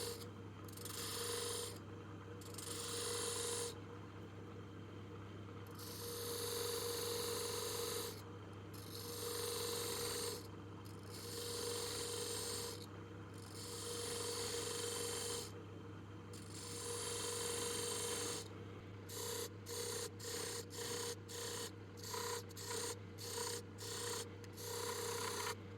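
An HSS beading cutter takes light cuts in ash on a wood lathe, giving a steady rasping scrape in repeated passes over a continuous motor hum, then quicker short back-and-forth strokes near the end.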